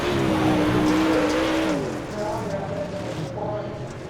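A super late model race car, loud and close, comes around to finish a lap, its engine whining and dropping in pitch as it passes, under steady announcer talk.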